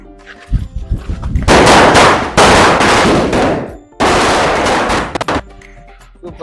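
Diwali firecrackers go off at close range in two long, loud crackling bursts of rapid bangs, separated by a short gap, then a few scattered pops.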